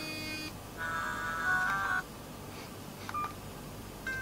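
Electronic tones from the F1 Race game on a Just5 Brick mobile phone: a sustained steady beep tone for about a second, then a few short separate bleeps, fairly quiet over low background hiss.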